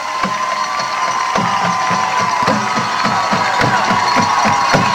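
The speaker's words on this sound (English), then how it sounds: "And we have crowd noise" Roaring crowd noise and cheering at a 1997 high school football game between Shenandoah and Monroe Central, a dense, loud, continuous wash of voices with sharp rhythmic clacks and thumps running through it.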